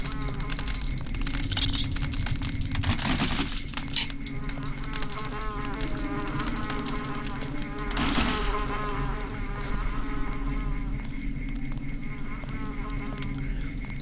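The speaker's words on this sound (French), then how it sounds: "Je suis en train de me faire défoncer par des moustiques." Mosquitoes buzz steadily in the PC game Deus Ex, a constant whining drone layered over game ambience and music, with occasional louder sound effects and no clear talk.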